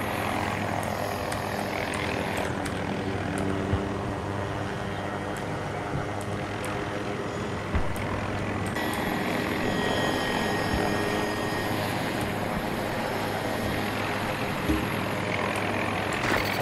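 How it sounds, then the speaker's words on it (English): A helicopter in the Battlefield video game flies with a steady, continuous rotor and engine drone that holds at an even loudness throughout, with faint scattered game sounds beneath it and no talk. "I'm on the helicopter."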